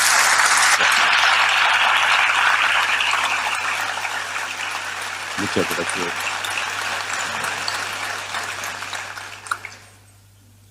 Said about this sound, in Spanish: Recibamos con un gran aplauso